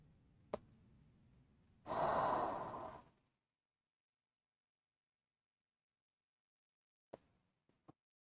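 A single deep, audible exhale during a Hatha yoga balance session, a soft breathy rush lasting about a second, followed by quiet and a few faint clicks.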